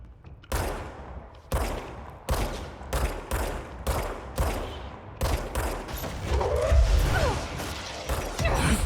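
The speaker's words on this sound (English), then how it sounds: "We have a heavy machine gunner" Heavy machine gun fire in the shooter game Control rings out in loud, evenly spaced bursts, each a sharp crack with a short tail. A denser, rumbling volley and a whooshing sweep close the stretch, with no talk.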